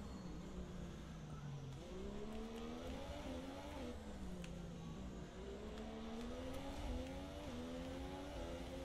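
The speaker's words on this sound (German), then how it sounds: "wie deine Karre beschleunigt" A Formula 1 race car in the video game F1 2017 accelerates through rising engine tones that climb and drop with gear changes, a continuous moderately loud whine with no talking.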